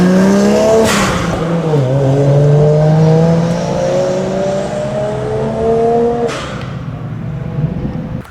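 A Nissan Skyline race car laps Eagles Canyon Raceway in Texas, its engine loud and close as it revs up through the gears, the pitch climbing and dropping with shifts and a sharp lift-off near the end.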